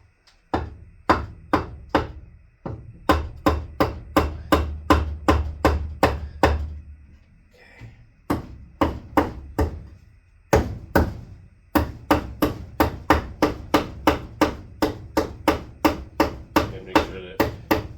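Repeated sharp blows of a sledgehammer on a wooden table end piece during home carpentry, struck in steady fast runs of evenly spaced hits with a brief pause in the middle.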